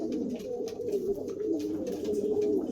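Pigeons coo in a loft, a continuous low rolling cooing from several birds close by, with no voices.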